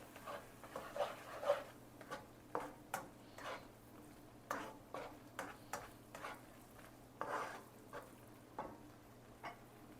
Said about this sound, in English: Start stirring that in, and you'll see it start to thicken up.